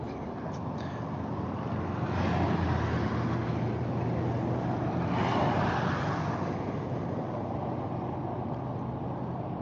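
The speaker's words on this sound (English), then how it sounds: "Sorry for the road noise." Steady rumbling road noise from inside a moving vehicle, a constant broadband roar that swells slightly at moments, with no talking.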